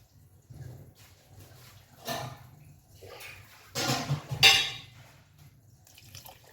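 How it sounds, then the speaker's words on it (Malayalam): Hot water pours into rice in a cooking pot for a one-pot sweet corn vegetable rice, heard as several short splashing, gurgling bursts, the loudest near the end, against quiet kitchen background. "അപ്പോൾ അതിന് നമ്മൾ അത്രത്തോളം കുറച്ച് ചൂടുള്ള വെള്ളം ഒഴിക്കാം കേട്ടോ"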